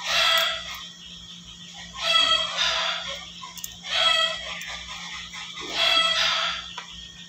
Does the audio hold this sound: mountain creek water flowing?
no